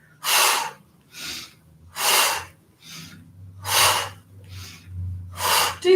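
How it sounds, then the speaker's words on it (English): During an exercise routine, a person breathes out forcefully through the mouth in a series of about seven close, rhythmic, breathy exhalations, each a short hiss about a second apart, with faint breathing between them. "Breathe out through the mouth."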